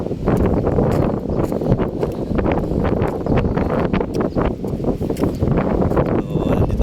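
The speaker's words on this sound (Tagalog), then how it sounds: "sarap ng hangin" Steady wind blowing along a riverside by the sea in Zamboanga, a continuous loud rushing and buffeting against the microphone with faint rustling throughout.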